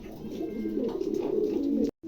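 Adult pigeons, one a large four-to-five-kilo bird, coo steadily and close in a continuous low rolling murmur that cuts off abruptly near the end; no talking.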